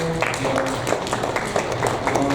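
A church congregation at a Sunday service breaks into brief applause, quick overlapping claps filling the room for a couple of seconds, with faint voices beneath.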